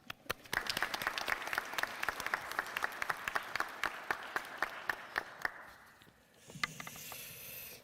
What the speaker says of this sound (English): Let's give him a warm round of applause as he comes to share his words of wisdom